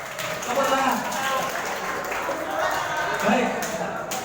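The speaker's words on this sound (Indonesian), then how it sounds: "Tepuk tangan untuk semuanya, tepuk tangan." An audience at a motivational seminar about continuing education claps together, a continuous wash of applause with voices mixed in over it.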